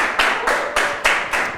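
Children clapping their hands together as a group during a holiday gathering, in several rhythmic bursts of applause, close and fairly loud, with no talking.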